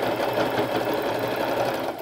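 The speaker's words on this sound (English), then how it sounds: "I'll just do a zigzag stitch" A sewing machine runs a continuous zigzag stitch while a fabric braid for a hippie headband is being sewn, a steady fast mechanical whir that is loud and close for about two seconds, with no voices.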